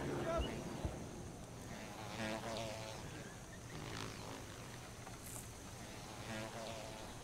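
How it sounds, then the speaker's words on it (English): Flies buzz loudly around a rice field in the video game Sniper Elite 3, a continuous wavering drone with passes swelling and fading across the whole stretch. "Too bad the flies are ridiculously loud."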